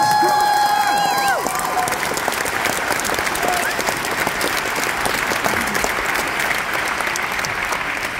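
A concert audience at a show in Knoxville applauds and cheers loudly and continuously, a dense wash of clapping filling the room, with a few sustained tones fading out at the start.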